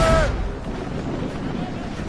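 Ship cannons firing during a naval battle in Assassin's Creed Rogue, a deep, rumbling boom rolling on under a shouted voice.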